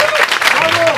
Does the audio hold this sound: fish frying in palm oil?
no